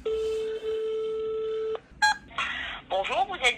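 A phone keypad dials out in a run of clear tones, one long steady tone followed by several short bursts, while voices speak over the last part of the sequence.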